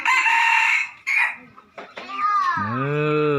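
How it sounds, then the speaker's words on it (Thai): A young rooster around seven months old, newly bought, crows loudly and close by, following a harsh clucking call, with the long tonal crow ending the clip. "ไก่ซื้อมาใหม่เนาะตัวนี้"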